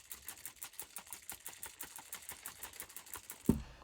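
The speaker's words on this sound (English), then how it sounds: "And you'll want to shake it every time before use." A spray bottle of homemade hand sanitizer made with rubbing alcohol is shaken: quick rhythmic sloshing rattles, about five per second and fairly faint, ending in one louder knock.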